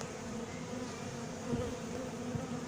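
Honey bees in a horizontal hive make a dense, steady, close buzzing hum that stays even throughout.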